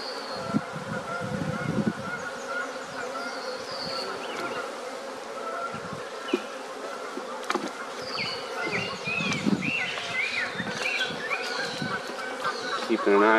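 Honey bees being hived make a loud, continuous buzzing drone close by, with individual bees whining past in rising and falling passes.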